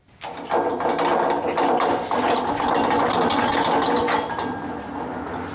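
Load-bearing ratcheting clamps being cranked tight on a Craftsman table saw, a continuous loud grinding ratchet chatter lasting several seconds, close up and alone with no talking.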